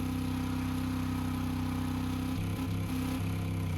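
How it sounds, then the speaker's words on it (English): The Ripper car's engine in Fortnite's Rocket League mode, a steady mid-pitched rumbling drone with a constant exhaust note and a slight wobble near the end, heard alone. "it sounds like the engine is more powerful than the Lockjaw, but not meant for speed"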